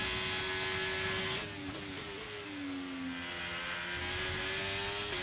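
V8 Formula 1 car engines race in a video game, heard as a steady high whine that dips and recovers through a gear change and keeps droning at a fairly constant level, with no talk.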